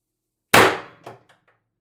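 An X-68 launcher fires once in a single sharp, loud metallic bang with a quick clattering decay, followed by a few faint rattling knocks, with no voice.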